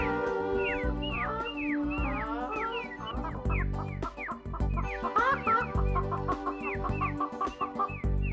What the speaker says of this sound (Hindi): मेरे पास तो चूजे चूजे हो गए, इतने बहुत सारे चूजे, कितना मजा आएगा।